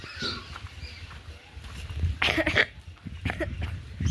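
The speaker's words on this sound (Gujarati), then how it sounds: "મને ઉધરસ થઈ ગઈ છે" A few sharp coughs burst out in the middle, close by, over a steady outdoor background hiss.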